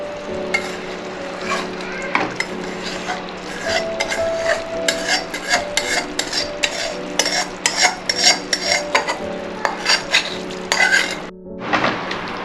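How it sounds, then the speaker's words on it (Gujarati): A spoon scrapes and stirs mawa (milk solids) in a pan over low heat while making coconut sweet, with rhythmic scraping clinks and a soft sizzle running under it, close and steady, without talk. "પહેલાં બધો માવો અંદર એક સરખો કરી નાખીએ આપણે મિક્સ કરીને."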